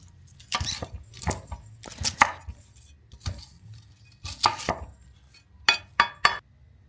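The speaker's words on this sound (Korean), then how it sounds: "이미 썰어놓은 양배추는 좀 더 작게 썰었습니다." Knife chopping cabbage on a board in short irregular bursts of crisp cuts, close and fairly loud, with brief pauses between strokes.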